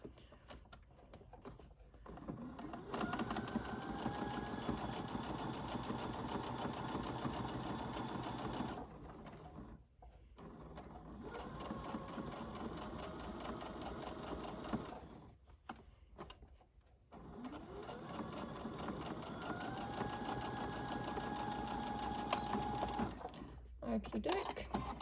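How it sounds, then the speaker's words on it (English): A domestic sewing machine top-stitches around the edge of a fabric baby clutch an eighth of an inch in, running in three long steady bursts with brief pauses between them, close and clear. "And I'm just going to top stitch around the edge 1/8 of an inch."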